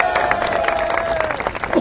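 A theater audience claps and cheers at the end of a show, a loud, continuous burst of applause with shouts and a whistle rising over the crowd.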